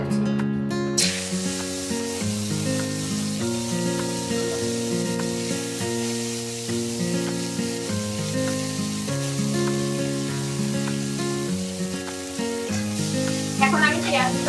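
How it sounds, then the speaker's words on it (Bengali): Chopped onions frying in hot oil for a pomfret (rupchanda) do-pyaza fish curry give off a steady, soft sizzle that runs through the whole stretch beneath prominent background music. "এখন আমি এখানে দিয়ে দিচ্ছি পেঁয়াজ কুচি"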